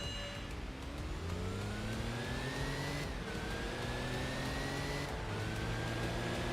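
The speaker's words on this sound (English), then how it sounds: "just listen to the roar of that engine" Engine of a smart car in the racing game Enthusia Professional Racing, droning steadily and loud with rising pitch sweeps as it accelerates through the gears, with a shift dip around the midpoint, other cars faintly mixed in.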